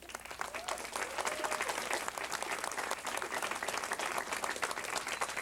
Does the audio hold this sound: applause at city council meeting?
yes